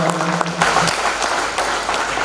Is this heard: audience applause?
yes